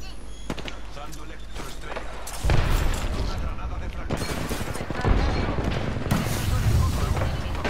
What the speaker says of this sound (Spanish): Disparos.